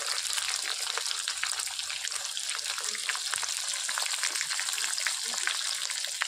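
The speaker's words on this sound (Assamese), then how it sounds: "পিঁয়াজখিনি অলপ ৰঙচুৱাকৈ মই ভাজি ল'ব দিম।" Chopped onions fry in a pan for duck curry over a wood fire, giving a steady, close crackling sizzle with dense fine pops throughout and no break.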